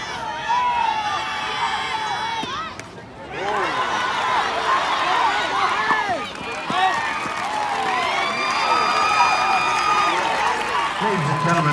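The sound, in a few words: crowd applauding and cheering at a softball championship game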